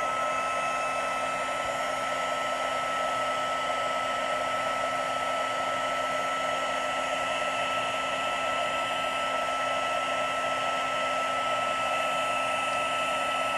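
A heat tool blasts a steady, loud whir of hot air as it melts a heavy layer of embossing powder for a gold background, droning unbroken with a faint tonal whine and no speech.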